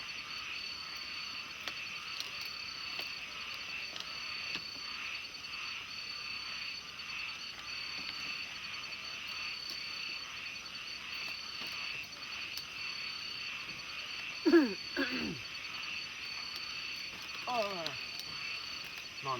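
Small frogs call at night from a rain-season farm pond, a steady background chorus with insects, broken by a few louder, nearer creaking croaks toward the end.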